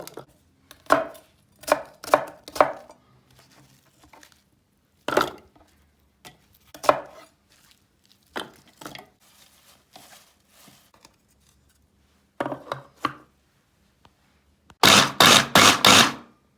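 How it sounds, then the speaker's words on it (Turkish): Knife chopping garlic and other ingredients on a board in short bursts of quick strokes, separated by pauses, ending with a louder rapid flurry of cuts. "Malzemelerimizi biraz ufak doğrayacağız ki robotumuzu yormasın"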